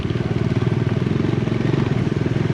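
A motorcycle, a Dominar, rumbles steadily and loudly as it is ridden up a muddy hill road in West Sikkim, its engine close with a pulsing, chugging beat throughout.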